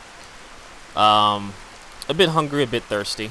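Heavy rain falls in the video game Skyrim near the city of Solitude, a constant soft hiss behind a character's spoken lines.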